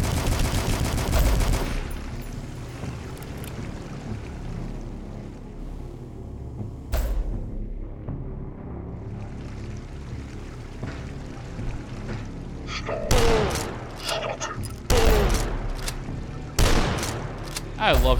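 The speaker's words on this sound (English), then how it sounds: "I love super shotguns." A super shotgun fires in the retro shooter Dusk, heavy booming blasts arriving in a loud burst at the start and then in repeated bursts toward the end, separated by quieter in-game ambience and a sharp mechanical clack.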